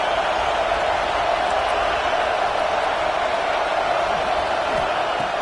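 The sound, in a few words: stadium crowd noise in a football video game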